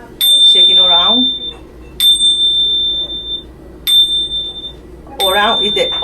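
A Malmark handbell rings four times in a steady series, each strike a bright sustained tone that decays slowly, heard up close with someone talking between and over some of the rings.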